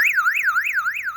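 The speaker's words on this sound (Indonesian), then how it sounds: "Kalau ini adalah sirene, sehingga ketika listrik mati maka alarm akan berbunyi." An electronic power-failure alarm siren at a biofloc tilapia fish pond wails loudly up and down in a fast, regular warble, about four sweeps in just over a second, with no voices.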